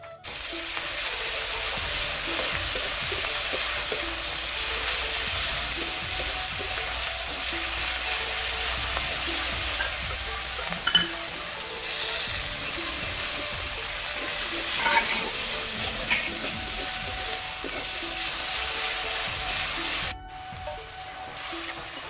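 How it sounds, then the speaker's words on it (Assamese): Fish heads fry with onions in a hot pan, a steady close sizzle and crackle running throughout, punctuated by occasional scraping stirs, with faint talk in the background. "মাছৰ মাথা পিঁয়াজ দি ধুনীয়াকৈ ভাজি লৈছোঁ"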